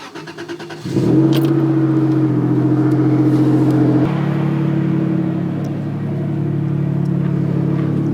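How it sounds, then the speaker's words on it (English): A Toyota Tacoma pickup truck engine turns over and settles into a steady low idle with a deep rumble, shifting slightly in tone partway through. "obviously just turned the truck on and it's indicating that it's on"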